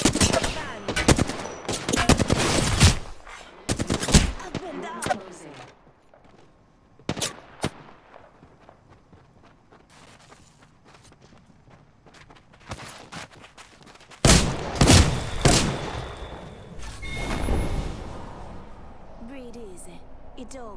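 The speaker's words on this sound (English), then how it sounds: "Listen up, I'm getting shot at!" Gunfire in the Apex Legends shooter game, sharp clusters of shots and bursts coming and going with quieter gaps, mixed with game effects and a player talking.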